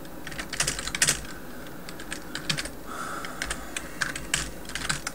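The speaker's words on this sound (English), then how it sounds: "Type my reply." Someone types a reply on a computer keyboard, quick clusters of light key clicks in irregular bursts with short pauses, close but fairly soft over a faint background hiss.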